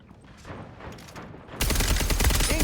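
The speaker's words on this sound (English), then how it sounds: "Incoming grenade. Oh, that was a grenade." A grenade explosion in a shooter video game: quieter gunfire crackles, then a sudden loud, broad blast that rolls on with rumbling debris and noise until the end, with no talk.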